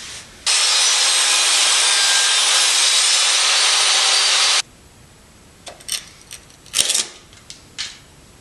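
Pieces of a junk wooden workbench table are cut with a power saw, giving one loud, continuous buzzing cut lasting about four seconds, then it stops abruptly and a few scattered knocks and clatters follow.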